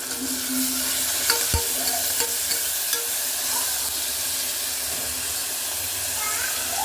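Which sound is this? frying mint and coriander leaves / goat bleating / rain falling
frying mint and coriander leaves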